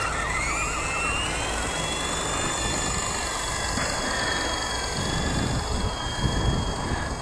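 A WLTOYS V913 RC helicopter flies outdoors in high wind, its steady whine of rotor and motor running continuously with wind rumble roaring underneath throughout, the pitch shifting slightly as it maneuvers.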